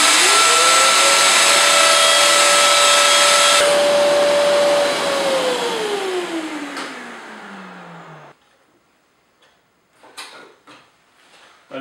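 A Festool OF1400 router runs loud and steady for several seconds while cutting dovetails, then winds down with a falling whine into quiet, followed by a few light knocks.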